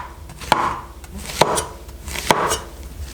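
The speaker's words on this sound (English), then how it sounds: "you cut these mushrooms very finely" A knife finely chops mushrooms on a board for beef Wellington, making three loud, evenly spaced strikes close by, each followed by a brief scraping rustle.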